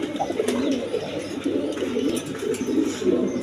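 Rasgolla pigeons kept with two chicks coo continuously in low rolling calls close by, with faint clicks and rustling around them.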